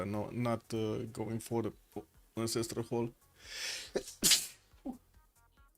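During live commentary on a Civilization VI tournament match, a single sharp sneeze bursts out near the microphone after people speak, followed by quieter talk.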